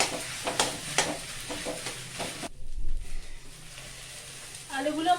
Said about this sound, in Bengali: আলুগুলো আমার মোটামুটি ভাজা হয়ে গেছে